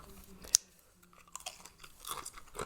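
Someone chewing a mouthful of bamboo shoot curry with chicken and fermented soybeans, soft crunchy bites and mouth sounds close to the mic, with one sharp click early on.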